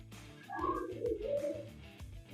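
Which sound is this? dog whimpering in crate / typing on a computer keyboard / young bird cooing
young bird cooing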